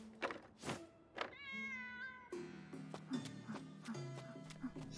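A cat meows in a Demon Slayer anime scene: a drawn-out, rising-and-falling meow follows several short thumps, then layered music and other sounds continue underneath.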